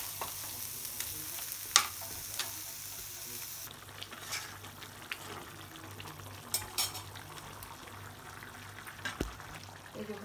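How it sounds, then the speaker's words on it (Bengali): Bitter gourd fries in a pan with a steady, moderate sizzle, and occasional sharp clinks and scrapes of a utensil stirring against the metal cut through it. "আর এই সাইডে বসাই দিচ্ছি একটু করলা ভাজা।"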